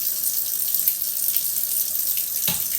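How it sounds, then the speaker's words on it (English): Running tap water pours steadily into a kitchen sink during a rinse, a constant close hiss with a brief splashy clatter near the end. "So I rinse it out, and I use Dawn,"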